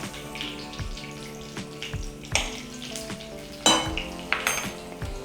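Tadka for Gujarati kadhi, with green chilies, round chilies, hing, cloves and cinnamon sizzling in a pan, gives a steady close frying hiss, broken by several sharp clinks of a spoon against the metal vessel.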